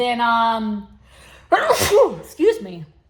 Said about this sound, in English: excuse me, sorry, I sneezed.